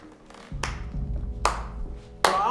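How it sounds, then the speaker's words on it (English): One person claps slowly in a creepy house during a party, a few sharp, spaced claps over a low rumbling background. "Jeff, will you stop that fucking clapping?"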